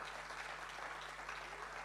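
Congregational applause fills a church service, a steady wash of clapping from many hands held at an even level for the whole short stretch, with no voices standing out.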